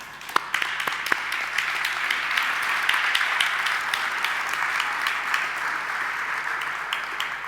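A crowd applauds steadily for several seconds, a dense wash of clapping with a few sharper individual claps standing out.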